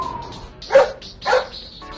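Rush, the robot dog in a Mega Man video game, gives two short synthetic barks about half a second apart, loud and close, over faint game sounds.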